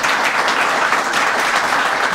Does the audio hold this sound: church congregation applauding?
yes